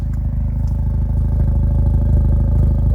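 An Acura Integra Type S with an MBRP exhaust idles and revs up close, a deep, steady, throbbing burble that swells slightly as the throttle rises, with no voices over it.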